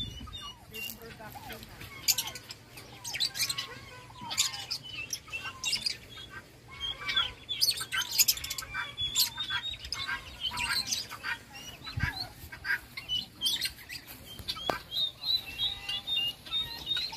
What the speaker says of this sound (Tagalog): may mga ibon din. Love birds.